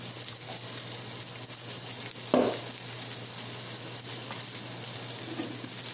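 Oxtail browning in a pot for a sautéed oxtail soup gives a steady, soft sizzle and frying hiss throughout, with a brief louder burst of stirring midway; no voices.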